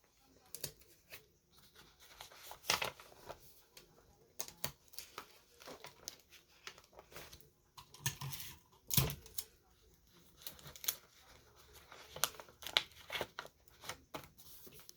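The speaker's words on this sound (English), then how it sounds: "So I tape it pretty good all the way around." Tape being pulled, torn and pressed around an image on an 8-inch wind spinner, producing scattered close crinkles, rips and sharp tearing bursts between quieter pauses.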